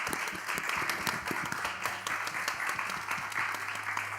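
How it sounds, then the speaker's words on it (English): Audience applause for panel speakers at a talk event, a dense, steady roll of many hands clapping that fills the room and holds at an even level throughout. "if we could have a round of applause for our speakers"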